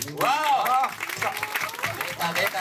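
Audience clapping greets special guests at a promotional event for the film Survival of the Dead, moderate applause running under excited voices and exclamations near the mic.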